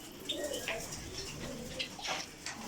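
Pigeons coo softly inside a pigeon shed, their low, throaty calls repeating over a steady rustling background with faint higher chirps from other birds mixed in.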